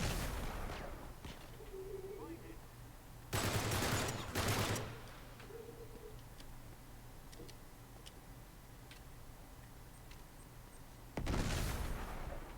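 Uncharted 3: Drake's Deception gunfire arrives as sharp, loud bursts separated by quieter stretches of faint ticking and game ambience.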